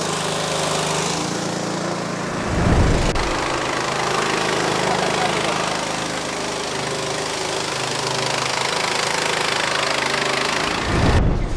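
A 7.5 HP Heavy Tech petrol engine powers a rice mill, running loud and steady with a dense, continuous roar throughout, with brief heavier thumps near the start and end.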